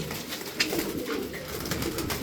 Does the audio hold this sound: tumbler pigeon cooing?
yes